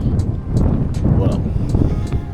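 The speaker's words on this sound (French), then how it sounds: "Là il y a quand même pas mal de vent." Strong, steady wind roars and buffets a microphone on an exposed Martinique coast near the Salines beach, loud and continuous with low rumbling gusts throughout.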